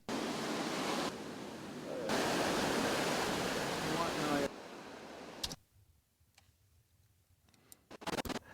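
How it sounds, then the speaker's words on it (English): Broad, steady roar of ocean ambience shifting in level across several cuts, then dropping to near quiet with a few sharp clicks and soft handling noises. "most of these shots just have ambient ocean noise"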